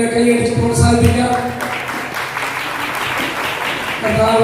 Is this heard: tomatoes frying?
no